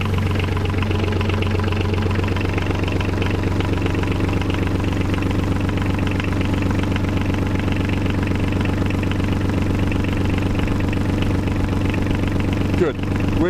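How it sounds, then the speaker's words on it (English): A marine diesel engine idles steadily and loudly with an even mechanical chug throughout, close to the microphone, with no talk. "Let's start the engine again and see what we get."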